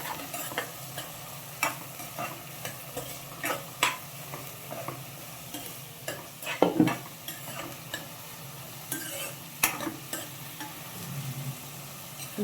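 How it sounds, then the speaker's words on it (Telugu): Chopped onions and green chillies frying in a pan, a soft continuous sizzle broken by scattered scrapes and taps of a spoon stirring them now and then, close by and without speech. "ఇవి లైట్ బ్రౌనిష్ కలర్లోకి వచ్చేంత వరకు వేపుకోవాలి. మధ్య మధ్యలో కలుపుకుంటూ ఉండాలి,"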